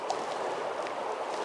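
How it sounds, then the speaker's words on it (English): A small river in the Scottish Highlands runs past nearby, giving a steady, even wash of flowing water with faint gurgles throughout, moderately loud and with no talking. "there's a little river running past. You probably hear it."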